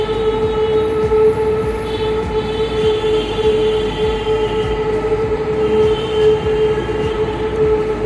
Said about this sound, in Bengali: ওপর থেকে মেট্রো যাচ্ছে, ট্রায়াল নিচ্ছে ওরা, টেস্টিং করে।